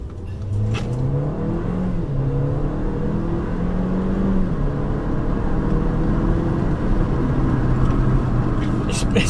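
A 2014 Mercedes CLA AMG pulls hard at full throttle, its engine note climbing through rising revs and a gear change, heard from inside the cabin at a loud, steady level.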